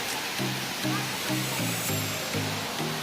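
A waterfall in South Aceh near Tapaktuan roars with a constant broad hiss of falling water, while a low rhythmic thumping pulses repeatedly beneath it.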